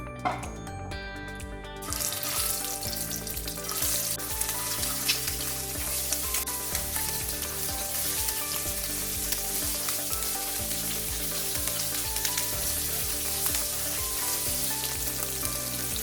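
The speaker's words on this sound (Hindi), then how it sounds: "फिर अभी एग्स और पोटैटोस को फ्राई कर लेंगे।" Eggs and potatoes fry in hot oil in a home kitchen, a loud, steady sizzle that starts abruptly after a brief quieter moment and continues unbroken, with no talking over it.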